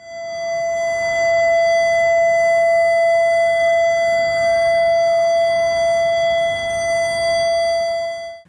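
Civil defense sirens wail loudly and steadily for a moment of silence at a 10 November Atatürk commemoration in Rize, with one sustained tone that slowly rises and falls and no voices.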